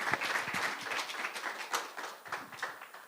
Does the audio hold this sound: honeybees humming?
no